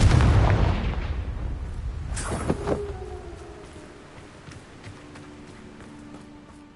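Confringo spell blast in Hogwarts Legacy: a heavy booming explosion at the start, then a sharp crack around two seconds in, fading into a quieter rumbling tail.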